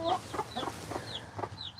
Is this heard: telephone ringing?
no